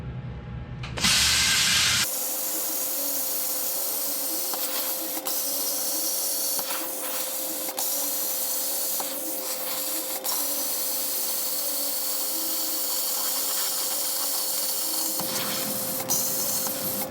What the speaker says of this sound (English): Now I'm going to just chop them out with the plasma cutter.